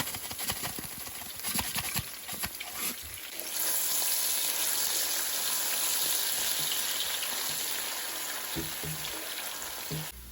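Onion, garlic paste and ginger paste frying in oil give a steady, loud sizzle that fills the whole stretch, with a few stirring clatters early on and no one talking.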